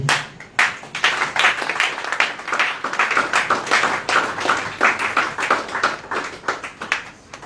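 A church congregation at a Sunday evening youth service claps steadily and loudly, a dense, continuous round of applause welcoming the pastor to the stage.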